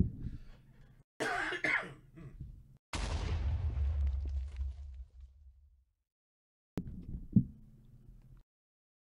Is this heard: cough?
yes